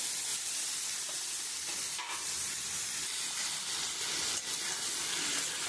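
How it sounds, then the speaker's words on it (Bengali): Boiled jackfruit goes into spice paste frying in a pan and is stirred, giving a steady loud sizzle and hiss with occasional scraping stirs throughout, no voices. "এবার আমি সিদ্ধ করা এঁচোড়টা দিয়ে দেবো।"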